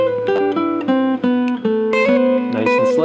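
An electric-style guitar chord melody playing the second line of a song, a steady sequence of plucked notes and chords at a slow, even pace, clear and unaccompanied.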